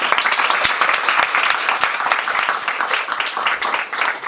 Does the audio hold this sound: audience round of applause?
yes